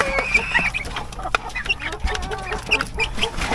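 Aseel chickens cluck and chatter continuously nearby, several birds overlapping in an irregular, busy rhythm.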